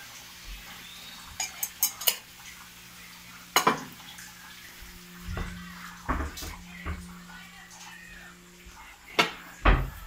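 Frog adobo in coconut milk is stirred in a pot, giving irregular clinks and scrapes of a utensil against the metal, with a few sharper knocks spread across the stretch.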